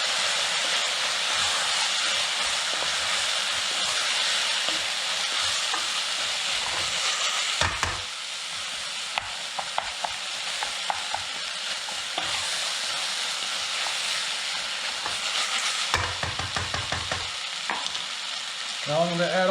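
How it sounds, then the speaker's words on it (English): Lentils cooking in a pot, heard as a steady loud sizzling hiss with brief stirring scrapes and a couple of short breaks in the sound, no voices. "I'm going to give this a quick stir."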